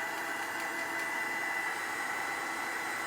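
A hair dryer blows steadily over a tea-stained craft project, an even airy whir holding at moderate level from start to finish with no voices.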